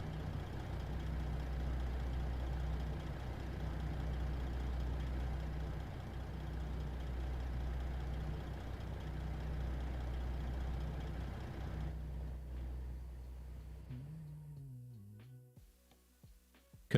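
A truck engine idling in Euro Truck Simulator, a steady low rumble that runs alone and unbroken for most of the stretch before it cuts out near the end.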